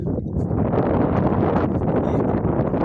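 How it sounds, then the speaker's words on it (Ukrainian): A light wind blows across an open farm field, buffeting the microphone with continuous rough gusts and rustle, loud and close, with no talk. "Трошки вітерець"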